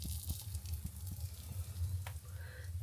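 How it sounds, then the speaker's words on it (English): A sausage on a stick frying at a Finnish cottage, a faint, steady sizzle with soft crackles and small pops over a low background hum. "I stuck a sausage on a stick in here, and it should be fried now."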